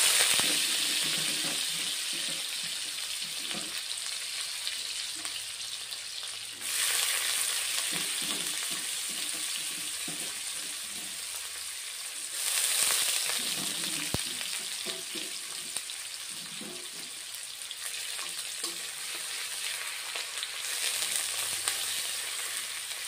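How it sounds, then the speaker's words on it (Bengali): Onion frying in hot oil as a tempering for a mustard katla fish curry, giving a steady close sizzle with occasional stirring scrapes and two brief swells of louder hissing, with no talking. "পেঁয়াজ দিয়ে দিচ্ছি ফোড়ন।"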